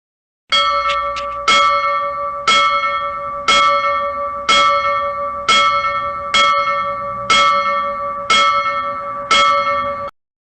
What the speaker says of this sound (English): Compare the sound from the lead bar impact to the sound of a bell made of bronze.